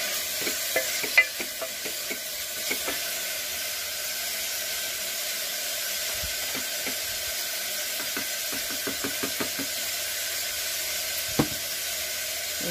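Tomatoes fry and sizzle in a pan for a Karnataka-style sprouted horse gram palya, with a steady hiss and repeated scraping stirs of a spoon against the metal, close and clear with no voices.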